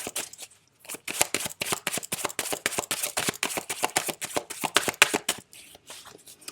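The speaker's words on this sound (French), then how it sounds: "j'ai envie de tirer une troisième carte" A tarot card being drawn from the deck: a fast, steady run of crisp papery flicks and shuffling riffles, close and fairly quiet, with a brief pause near the start and no voice.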